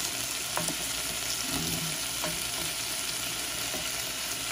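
Canned tuna flakes hit a pan of sautéed garlic, onion and tomato, giving a steady close sizzle with a few soft scraping stirs and faint clinks; no one speaks.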